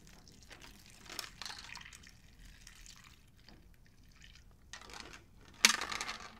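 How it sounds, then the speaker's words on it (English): Electrolyte drink being poured into plastic freezer pop tubes, quiet trickling and splashing with a few small clicks and a sharper plastic tap near the end, close by. "We are filling these things up."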